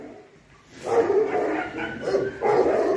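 Puppies barking and yipping near sheep on a farm, several bursts of close, lively barks in quick succession, with faint handling noise between.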